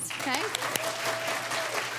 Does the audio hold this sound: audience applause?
yes